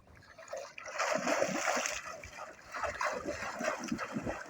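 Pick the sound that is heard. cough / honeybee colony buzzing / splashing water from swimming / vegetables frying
splashing water from swimming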